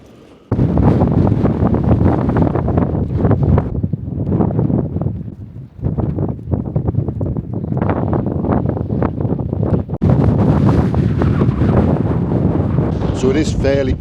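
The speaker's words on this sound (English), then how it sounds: "it is fairly cold and windy outside of the tent." Strong wind gusts buffet the microphone outside a tent on a Lake District Wainwright mountain summit, with loud, rumbling bursts that rise and fall and brief lulls between them.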